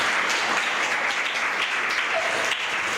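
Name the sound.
audience clapping at a religious gathering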